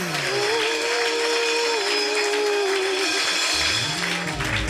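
Church congregation in a French-speaking worship service clapping and cheering to acclaim Jesus, a dense, steady wash of applause filling the whole stretch, with a held sung or voiced tone riding above it.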